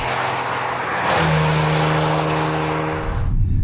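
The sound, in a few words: Maserati Levante 350 V6 engine while driving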